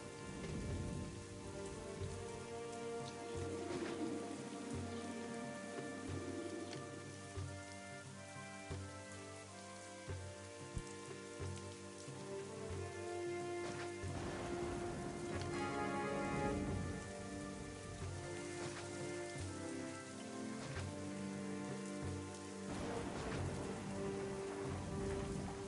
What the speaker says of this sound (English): we've got rain now.